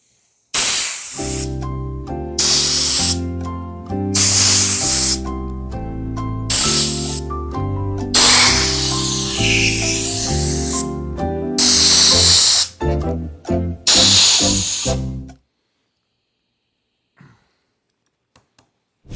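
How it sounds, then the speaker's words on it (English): An air compressor line blows air in repeated loud hissing bursts of a few seconds each, separated by short gaps, while being used to clean an electric dirt bike. The bursts stop for the last few seconds. "I might be able to do it just with the air compressor."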